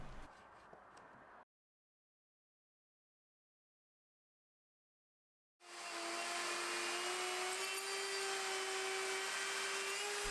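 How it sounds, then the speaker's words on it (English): A router flattens a live edge timber slab, roaring loud and steady with a high whine, cut by a stretch of silence before it starts up again. "I can use the turrets and depth stop on the router to lower the bit by a couple of millimeters each time"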